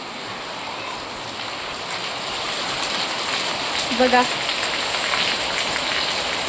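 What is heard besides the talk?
rain falling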